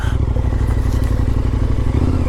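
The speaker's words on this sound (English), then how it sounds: "show you guys what it would be like to be on a 250 two-stroke motorbike back in the day in fourth gear" A 250 two-stroke motorbike is ridden in fourth gear, a loud, steady, rasping engine drone with rattling clatter, close and continuous.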